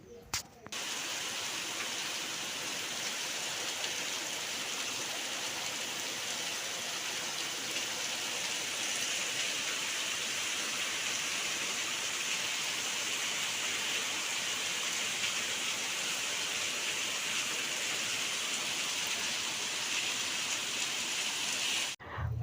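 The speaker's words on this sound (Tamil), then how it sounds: "அதுக்கப்புறம் வந்து செம்மையாக மழை பெய்ய ஆரம்பிச்சிட்டு இருந்தது அதை தான் கொஞ்சம் வீடியோ எடுத்துகிட்டு இருந்தேன்" Heavy rain pours steadily outdoors, a dense, even hiss of falling water that stays loud and unbroken for the whole stretch, with no voices over it.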